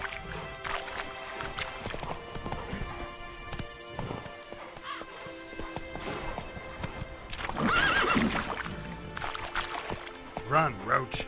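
Roach the horse gallops through The Witcher 3, with hoofbeats pounding under talk and game sound, and loud whinnies rising near the middle and again at the end.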